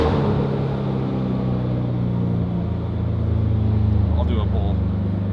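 A Toyota 86 with a worn clutch droning steadily after a downshift, a loud continuous in-cabin engine hum that rises slightly toward the end, with faint voices in the car.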